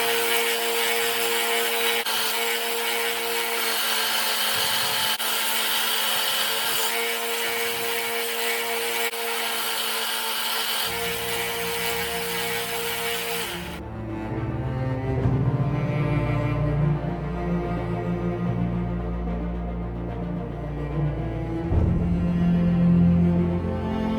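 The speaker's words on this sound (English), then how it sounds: "now just grind it down and see if it did" A forged kukri blade ground down with a power grinder: a steady, loud, continuous grinding whine with a rough, gritty texture, shifting in tone partway through as the pressure or angle changes, with no talking.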